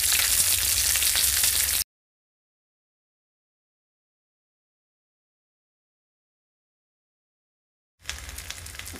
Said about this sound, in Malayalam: ചെറിയ ഫ്ലെയിമിലിട്ട് മറിച്ച് തിരിച്ചിട്ട് നമുക്ക് ഫ്രൈ ചെയ്തെടുക്കാം.